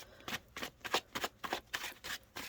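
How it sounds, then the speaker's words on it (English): Tarot cards being shuffled by hand, a quick run of about ten crisp riffling bursts in an even rhythm, close and fairly quiet, with no talking. "Let me shuffle"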